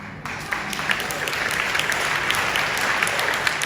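A crowd of listeners at a speech breaks into applause, the clapping building quickly after a brief pause and then holding as a thick, steady roar of hands.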